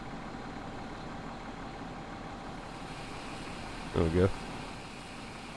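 A tractor engine in the Farming Simulator 17 video game idles with a steady low drone throughout, while someone briefly speaks over it near the end.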